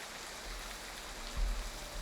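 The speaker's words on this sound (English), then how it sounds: "Rain! Honest to goodness, rain!" Rain in the video game Triangle Strategy, a soft, steady hiss of falling rain heard alone at low volume.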